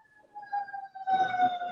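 An emergency vehicle siren, ambulance or police, wails with a steady wavering tone that swells louder partway through, heard from a moderate distance with no speech.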